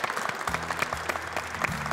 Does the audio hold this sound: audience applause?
yes